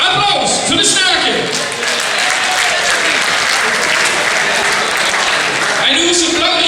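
Loud sustained applause from a hall audience at a carnival song contest prize announcement, dense clapping with occasional shouts, fading slightly near the end.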